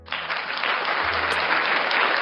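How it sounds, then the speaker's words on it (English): Continuous clapping, loud and close, a dense burst of applause that starts abruptly and holds steady throughout with no talking over it. "I clap for you."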